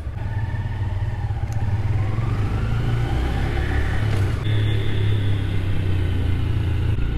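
A Honda Grom motorcycle rides at night, giving a steady, loud engine drone with wind and road rumble throughout, the pitch wavering slightly as it cruises.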